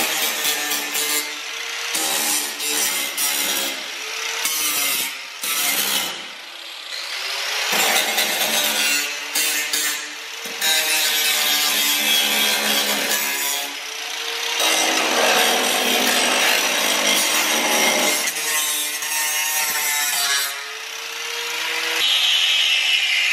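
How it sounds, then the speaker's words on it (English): An angle grinder with a grinding disc smooths the cut edge of a steel quarter panel on an MK4 Toyota Supra: loud, harsh, continuous abrasive grinding, close by, broken by brief pauses and changes in pressure. "now put the grinding disc on, and what I'm gonna do is just try to smooth all this out"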